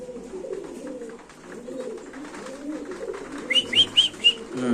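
Soft, low cooing from large Bombay pigeons rumbles on steadily, joined near the end by a short run of high chirps from a nearby bird.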